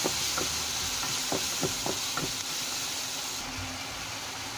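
A spice paste of turmeric and chili powder fries steadily in a pan with a broad, even sizzle, and a few short scraping knocks from stirring come early on. The cooking goes on quietly with no talk.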